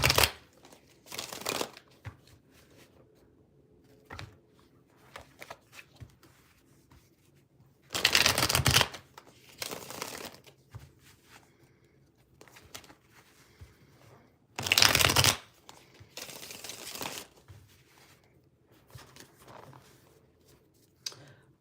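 Cards being shuffled in several bursts, each a loud riffling whoosh, separated by quieter stretches with light handling sounds.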